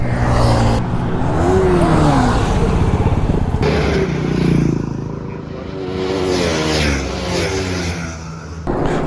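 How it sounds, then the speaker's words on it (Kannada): A Royal Enfield Classic 350 motorcycle cruises on a highway, its engine a loud steady drone under heavy wind rush, with a voice faintly heard in places. "ನಮ್ಮದು ಭಾಳ ಸ್ಪೀಡ್ ಓಡಂಗಿಲ್ಲ ಯಾಕಂದ್ರೆ ಕ್ಲಾಸಿಕ್ ತ್ರೀ ಫಿಫ್ಟಿ ಇದೆ"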